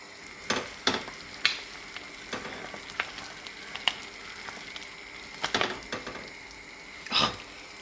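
A pot of strawberry, blackberry and plum jam boils on the stove, giving off scattered bubbling pops and soft crackles over a steady low hiss, with no talking.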